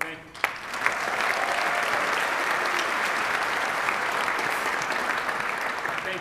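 Audience at a school band concert bursts into sustained applause after a sharp opening clap, a dense steady wash of clapping that holds for several seconds before tapering.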